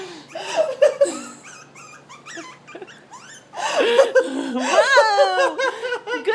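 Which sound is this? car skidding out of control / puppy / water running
puppy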